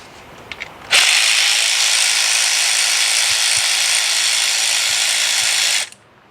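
A power ratchet spins steadily for about five seconds, loosening 8mm rocker arm bolts on a GM V8 engine, with a sharp start and stop and no talk over it.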